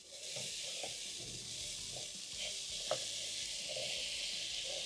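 Carrots and green peas sizzle faintly in a pan as they are stirred, a soft continuous frying hiss with occasional light scrapes of the spoon.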